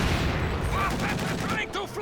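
Dense rifle fire and grenade blasts crackle continuously in a 2v2 Company of Heroes 2 battle, with someone commentating over the steady din.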